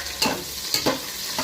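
Onions fry in a pan for a plain-rice biryani, a loud close sizzle with a few rhythmic spatula strokes scraping through.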